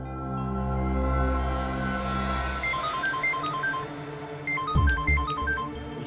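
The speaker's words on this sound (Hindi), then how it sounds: "उसी का फोन है।" A phone ringtone plays a bright electronic melody of repeating beeping notes over a low sustained musical drone, with a sharp swoop and a louder second burst of ringing toward the end.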